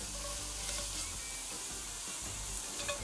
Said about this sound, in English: I'm gonna start off with about a pound of fresh breakfast sausage. You're gonna brown the ground sausage.